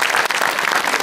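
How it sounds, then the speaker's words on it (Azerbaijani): A studio audience at a comedy talent competition show breaks into brief, loud, dense applause that fills the room. "Alqışlarınızla"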